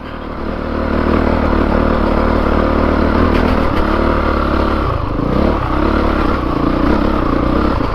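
Honda CRF450RX dirt bike ridden off-road, its engine droning loud and steady close by, with rising revs and clattering from the chassis over rough ground.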